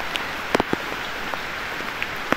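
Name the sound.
rain falling at a campsite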